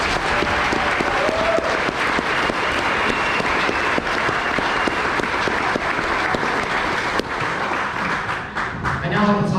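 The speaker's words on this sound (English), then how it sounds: "So give yourself another round of applause." Sustained applause from a dinner audience at a Marine Corps drill instructor graduation-week event, a dense, steady wash of many hands clapping that fades slightly near the end.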